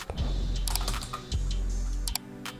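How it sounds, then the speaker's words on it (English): Keyboard keystrokes tap out an address into a web browser, a short scattered series of soft close clicks over a steady low hum, with no voice. "So open a browser and type"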